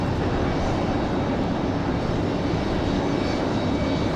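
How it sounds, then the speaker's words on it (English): A Boeing 757 airliner's engines roar steadily on the move at Raleigh-Durham International Airport, a loud, continuous, unbroken wash of sound with no talking. "Our 757 getting ready for departure"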